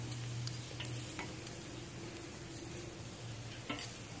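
Shrimp sizzling on a grill just after being flipped, New Orleans style: a steady close crackle with a few sharp ticks and pops, no voices.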